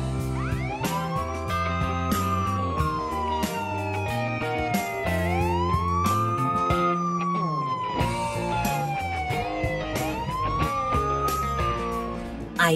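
A police car siren in a Roblox video game wails in long rising and falling sweeps, loud and continuous, with other game sounds underneath.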